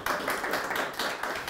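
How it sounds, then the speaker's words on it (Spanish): A brief burst of clapping from a small audience honoring staff at an office opening, a quick flurry of hands that stays close and even for just over a second. "les pido un fuerte aplauso para ellos"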